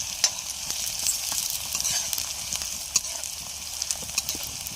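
Green onions and chillies sizzle and crackle in hot oil with occasional stirring clinks, a steady close frying hiss with no talk.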